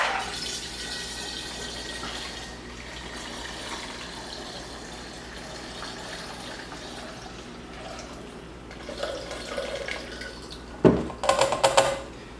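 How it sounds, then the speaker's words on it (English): Yeast water poured into a five-gallon batch of apple and cinnamon mead, a low steady watery fill under faint room noise, ending in a few louder splashes and clinks near the close. "I can add in my yeast water above this"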